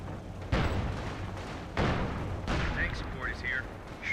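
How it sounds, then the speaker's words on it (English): Mortar shells land in a Company of Heroes 2 battle, with heavy booming impacts and rumbling bursts at intervals, followed by faint higher battlefield sounds. "they recruit a mortar just to piss me off"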